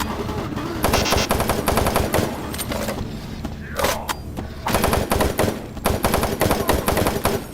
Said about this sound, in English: Warning. Automated turret guns online.